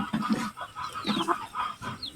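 Chickens clucking close by, a busy cluster of short overlapping clucks and murmurs from several birds.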